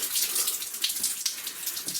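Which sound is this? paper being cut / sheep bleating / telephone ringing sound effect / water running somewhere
water running somewhere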